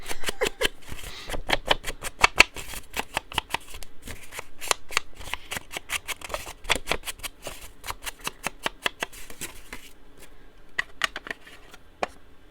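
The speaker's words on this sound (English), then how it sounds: "we're just going to put down some brown paper bits" Pieces of brown paper, old newspaper and book pages, handled and shuffled close up, a rapid run of crisp rustles and flicks that thins out toward the end.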